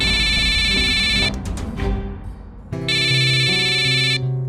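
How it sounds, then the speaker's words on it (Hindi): A phone rings loudly in a TV crime drama, a bright electronic ringtone playing in two bursts separated by a short gap, with dramatic background music underneath. "रघु का फोन है"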